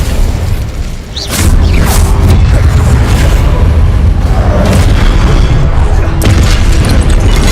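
A Confringo blasting curse explodes in the Hogwarts Legacy video game: a loud, deep boom bursts in after a brief lull, then a sustained rumbling roar with scattered debris-like crackles.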